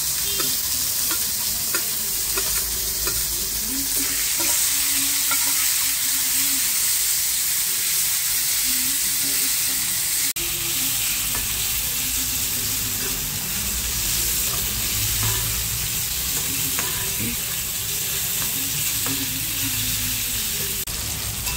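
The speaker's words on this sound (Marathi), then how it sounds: "कांदा लालसर झालाय, आता आपण त्याच्यामध्ये एक टोमॅटो टाकूया, मीडियम साईजचा टोमॅटो" A medium tomato frying with browned onions in a pan, a constant close sizzle and hiss with repeated scraping stirs throughout, no talking.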